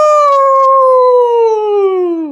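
A person imitates a long wolf-like howl while reading a story aloud, one loud sustained voiced note that slowly slides downward for about two seconds, alone with no other sound.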